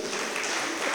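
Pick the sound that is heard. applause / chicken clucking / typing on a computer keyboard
applause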